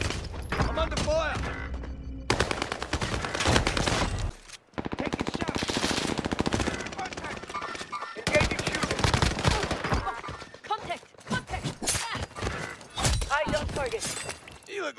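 Video game gunfire in Mercenaries, with dense bursts of automatic weapon fire and scattered shots mixed with explosions and radio-style voices, loud and chaotic throughout.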